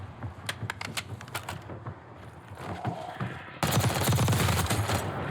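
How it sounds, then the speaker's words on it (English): Rapid gunfire and explosive rocket blasts in the video game Call of Duty: Warzone, set in Verdansk, loud and dense throughout, with a sudden heavier burst of sustained firing near the end. "Is that dude shooting rockets at me?"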